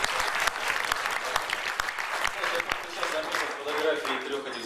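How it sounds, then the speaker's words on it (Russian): Audience applause at a jazz concert, a dense spread of clapping with some sharp individual claps, moderately loud, with a voice talking over it toward the end. "Аплодисменты, аплодисменты."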